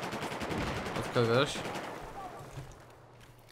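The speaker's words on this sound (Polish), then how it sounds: "Słyszę gdzieś strzały obok siebie." Distant gunfire in Battlefield 4 multiplayer rattles in the background under a player's voice, with a short tonal whine passing briefly in the middle.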